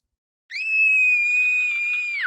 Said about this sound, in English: As a child star, Barbara was famous for her scream.